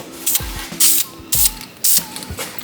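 Four short, loud hisses of an aerosol can spraying gloss black paint onto a brake caliper from an R32 Skyline, each burst close and separated by brief pauses.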